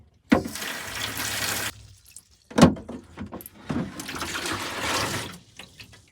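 Water runs from the kitchen tap of a 22-year-old campervan in short splashing bursts, a nearby trickle and gush that stops and starts with brief clatters in between.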